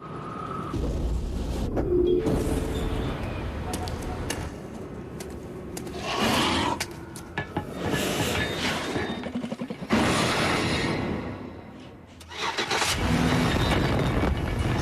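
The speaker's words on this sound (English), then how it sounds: "Introducing the all-new Chevy Impala. Available with the powerful 303 horsepower small block V8" Chevy Impala with a 303-horsepower small block V8, from a TV car advertisement: engine and car sounds rise and fall in several loud surges, with a brief start-up burst and revving, no talking.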